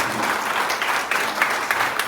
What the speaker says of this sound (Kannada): ಚಪ್ಪಾಳೆ ಬರ್ಬೇಕು ಸರ್.